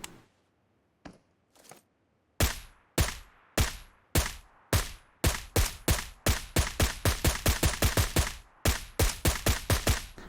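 Suppressed gunfire in PUBG Mobile: a few isolated shots, then long rapid bursts of sharp, evenly spaced pops that crowd together toward the end, loud and close with no talk over them.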